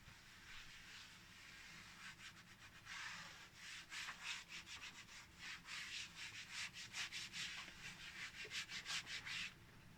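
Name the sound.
rubbing slate oil into slate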